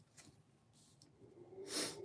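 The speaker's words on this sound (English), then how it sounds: "Sorry for blowing my nose" A person blows their nose, with short faint sniffs and then a firmer, louder nasal blow near the end, quiet and close.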